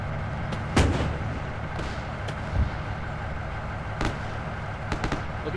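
Mortar rounds firing in the Arma 3 video game, several booming thumps spaced a second or two apart, one heavy near blast followed by duller distant reports over a low rumble, with no speech.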